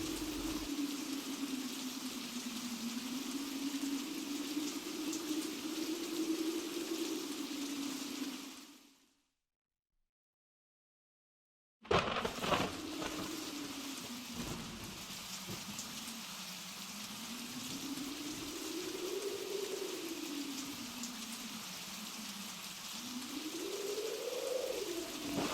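Rain falls as a steady hiss with a low wavering tone, a sound effect in a shadow puppet play. It cuts to silence for a few seconds, then resumes just as steady and fairly quiet.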